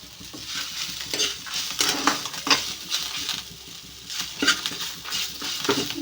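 Tamarind leaves frying in a pan, with a continuous sizzle under repeated scraping and stirring strokes of a utensil against the metal, close up and steady with no talking.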